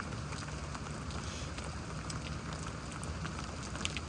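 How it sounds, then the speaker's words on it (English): Steady rain falls during a thunderstorm in Houston, Texas, making a continuous broadband hiss at moderate level with scattered small patters and no voices. "The rain kind of picked back up a bit."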